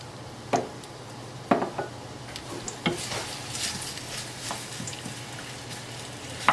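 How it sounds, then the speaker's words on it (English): Onions caramelizing in olive oil in a tajine over low-medium heat: a soft, low sizzle with occasional clinks and scrapes of a utensil against the pot, close and quiet. "we're going to caramelize our onions"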